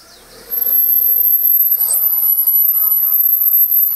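Squeaking brake caliper behind a wheel on a Lada Vesta SW, heard as a steady high-pitched squeal and rubbing that starts abruptly and keeps going, fairly loud and close, with no talk over it.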